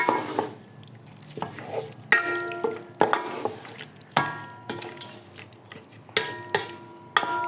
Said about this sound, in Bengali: আমি এই মরিচ দিয়ে এটাকে কিছুক্ষণ নাড়াচাড়া করব